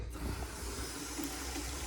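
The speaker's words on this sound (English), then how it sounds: "you get water there to fill the bucket" A hose pipe runs steadily into a bucket in a farming game, a constant rushing hiss of water with no pauses, fairly quiet and even throughout.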